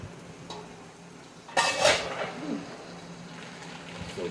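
Pasta is dropped into a pot of water on the stove, giving a sudden clatter and rattle of dry pasta against metal, then quieter stirring and clinks, heard up close.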